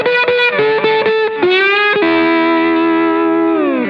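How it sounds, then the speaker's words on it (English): Unmuted slide guitar lick across multiple strings, a run of quick slid notes that blur together as strings keep ringing, then a held chord-like wash sliding down at the end, loud and close with no talking. "you hear all of those notes kind of ringing out together"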